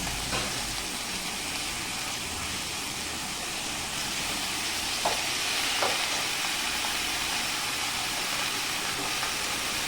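Greens tossed in hot oil in a pan, giving a continuous soft hiss with a few faint scraping stirs, steady and close with no talking.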